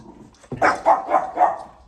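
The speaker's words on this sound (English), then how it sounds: "the dog's gonna go crazy for a minute" A dog barking four times in an even, steady rhythm as its owner's son arrives home, close and loud, with no talk over the barks.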